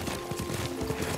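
Horse hooves clip-clop in a steady rhythm while riding in Ghost of Tsushima, with soft ambient music beneath and no talk over the hoofbeats.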